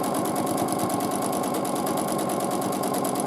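A sewing machine stitches small pebble shapes in free-motion quilting, its needle pounding out a fast, even, continuous rhythm up close with no voices.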